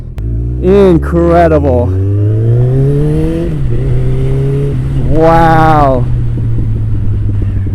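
A tow-yard motorcycle, rebuilt as a flip project, runs on the road with a steady low engine drone, rising revs climbing in pitch near the start and again around the fifth second; a man exclaims over it.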